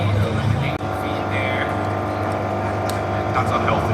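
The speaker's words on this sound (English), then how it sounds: "that does sound like a head gasket's in trouble here" A strained, rough-running vehicle engine in a video game, its head gasket failing, droning steadily at high revs with a brief dropout near the start and no break otherwise.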